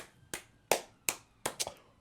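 Five sharp hand claps ring out alone in a quiet room, spaced unevenly with the last two close together.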